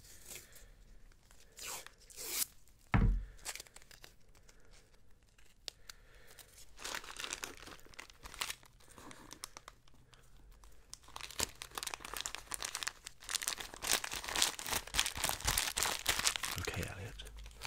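Paper crinkles and tears close-up while a gift is wrapped with tape, with rustling and crumpling that grows busier and louder toward the end and a soft voice speaking over parts of it.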